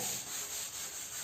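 A board is rubbed clean during a classroom lesson: a brief, soft, steady scrubbing of an eraser across the surface, close by and alone.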